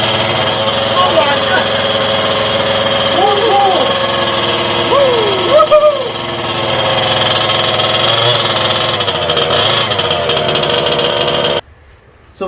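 A Kraken Vekta.5 RC car's gas engine runs loud and close, a raspy buzzing idle with brief revving swells, while voices talk over it before the sound cuts off abruptly near the end.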